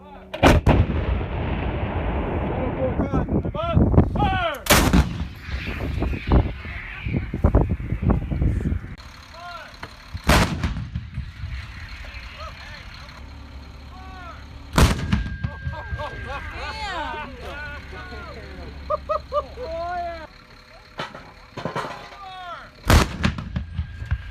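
An M777A2 howitzer fires several loud booming rounds at intervals, each sharp blast followed by a rolling echo, with shouted commands and talk between shots.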